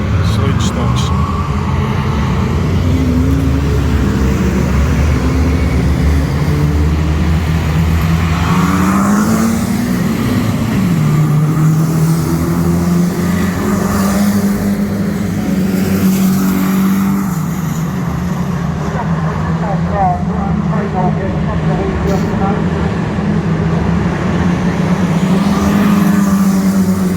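Sludge stock cars roll around the Cowdenbeath oval behind the pace car, a loud, sustained mass of low engine rumble with gradually shifting pitch as the pack circulates.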